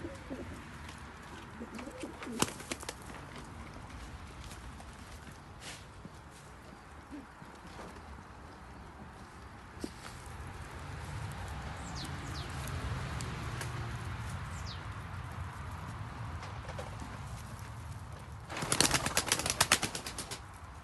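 Soft pigeon cooing in a quiet outdoor setting in Germany, faint and intermittent, with occasional clicks and a brief burst of rustling near the end.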